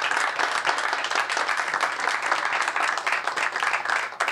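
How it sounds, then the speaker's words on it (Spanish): A crowd at a solar panel blessing ceremony applauds in honour of an auxiliary bishop, sustained clapping with a slightly uneven, rippling texture lasting a few seconds. "Le damos un aplauso también a él."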